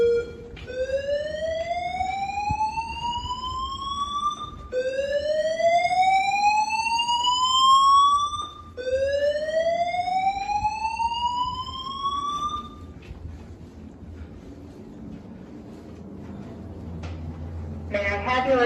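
A Notifier fire alarm system sounds three loud, rising electronic whoop sweeps, each lasting about four seconds and repeating back to back, then falls quiet apart from faint background noise.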